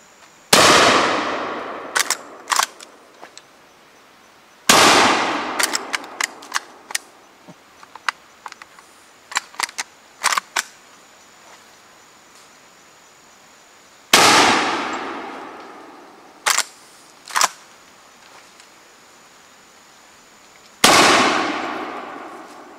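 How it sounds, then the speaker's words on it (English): Four loud, sharp shotgun blasts from an 1887 lever-action shotgun loaded with silver buckshot, each with a long decaying echo, spaced several seconds apart, with metallic clacks of lever cycling between shots and no talking. "I'm going to use my 1887 shotgun loaded with silver buckshot to take them out."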